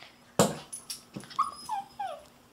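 A dog gives a sharp bark followed by a string of whimpers and whiny yips, close and fairly loud against a quiet room.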